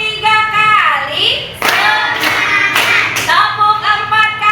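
In a classroom, children chant together and then clap their hands in a short run of sharp, close claps, their sing-song voices continuing around the claps.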